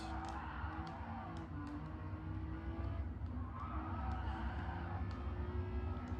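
A bare-bones sports car drives with a steady, droning engine note and a faint tire hiss, heard from a moderate distance as a continuous rumble without talk.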